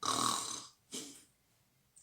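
A voice imitates snoring: a long rasping inhale-like snore, a shorter second snort after a pause, then a brief sharp sound at the end.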